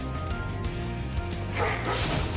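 Dogs in the Spyro the Dragon video game give a few short barks and yips over steady background game music, heard close and clear.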